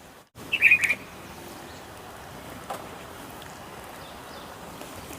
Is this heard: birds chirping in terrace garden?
yes